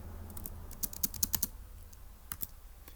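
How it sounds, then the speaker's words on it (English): Someone types on a computer keyboard: faint, quick clusters of key clicks in a quiet room, close but soft, with short pauses between bursts and no talking. "So let me just type this up really quick."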